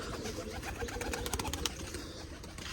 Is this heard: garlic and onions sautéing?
no